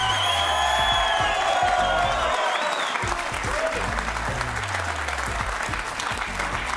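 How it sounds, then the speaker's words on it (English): Loud studio audience applause with cheering and a few whoops on a sports talk show, continuous clapping over a bright electronic music bed, steady throughout. "get the applause going"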